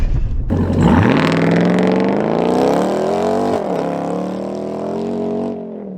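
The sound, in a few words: 2022 Ram TRX truck launching off-road in Baja mode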